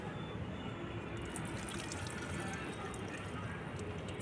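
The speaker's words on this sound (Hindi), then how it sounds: "पानी को इस बोतल में डाल लेती हूँ" Water from a tap pours into a spray bottle in a continuous, even splashing stream that sits close and steady throughout, with no voices.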